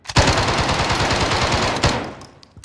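Milano gun in a video game firing a sustained rapid burst of close, loud automatic shots for nearly two seconds, then a single last report and a fading tail.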